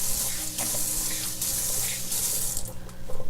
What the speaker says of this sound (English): I gotta rinse my hands again